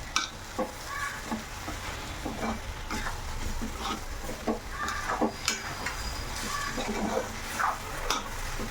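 A spoon scrapes and taps steadily in a pan as milk powder is stirred into a sticky garden cress seed laddoo mixture, with a low sizzle underneath and no speech.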